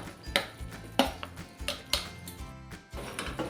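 Chopped raw banana and chickpeas are stirred in a pan for a Konkani-Maharashtrian dry vegetable dish, with a spoon scraping and knocking against the metal in several soft, irregular taps and clinks close by.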